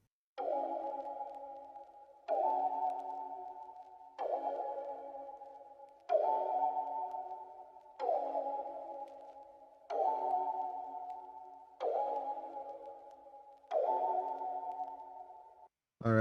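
A dark ambient synth key preset called Distractions from Analog Lab repeats eight evenly spaced notes, each struck and then fading over about two seconds. The sound is quiet and sits alone with no voice.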